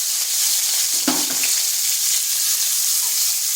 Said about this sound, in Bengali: এগুলো একটু নেড়ে চেড়ে ভেজে নিচ্ছি। দিয়ে দিচ্ছি একটা পেঁয়াজ।